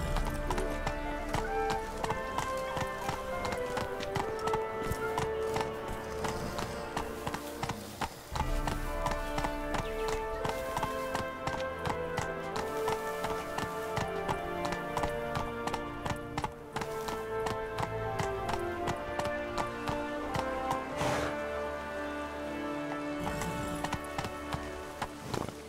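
Horse hooves clip-clop steadily as a horse is ridden in the video game Witcher 3, set in Toussaint. The rhythmic footfalls sit under a dense backdrop of music and ambience throughout.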